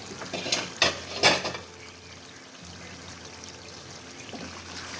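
Par-cooked soaked rice for chicken biryani being drained through a strainer, a few quick splashy pours and clatter at the start, then a softer steady trickle of draining water, no voices.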